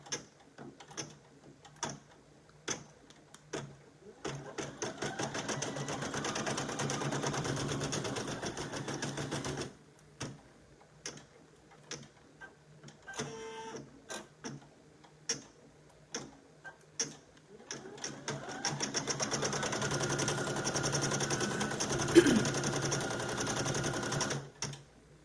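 A Brother PE800 embroidery sewing machine stitches an applique in two long, even runs of fast mechanical clatter, separated by quiet stretches of sparse ticks and clicks, close and moderately quiet.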